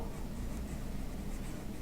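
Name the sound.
writing with pen or chalk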